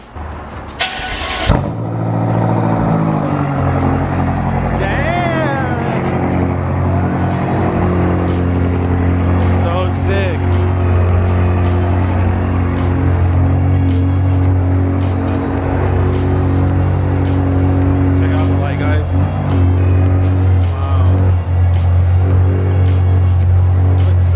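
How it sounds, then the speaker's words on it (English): A BMW F80 M3 fires up from cold in a workshop, with a sharp starter burst and rev flare, then settles into a loud, steady, deep idle that drones on with slight revving, up close. "Double cold starts, semi cold starts"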